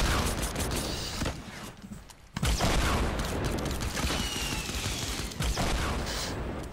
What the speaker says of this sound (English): I'm gonna use my silence pistol.